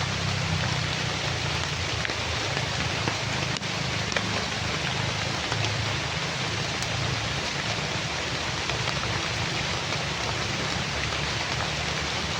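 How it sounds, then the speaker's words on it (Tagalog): Heavy rain pours down steadily and loudly, a dense continuous roar of drops with a low rumble underneath and no voices. "Grabe, sobrang lakas ng ulan."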